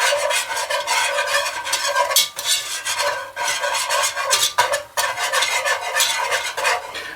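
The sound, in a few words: whisking flour and butter together in a pot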